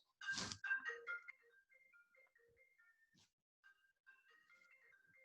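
A melodic phone ringtone chimes out a short tune of bright electronic notes, fairly faint, after a brief louder burst at the start.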